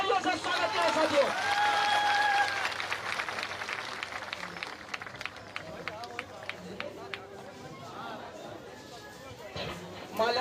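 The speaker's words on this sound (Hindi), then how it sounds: "मैं चाहूंगा बस जोरदार तालियों से स्वागत करें साथियों" A crowd at a Nishad community meeting in Jaunpur gives a burst of loud, dense applause to welcome Dr. Sanjay Nishad, and the clapping fades into scattered claps and chatter while a voice talks over it.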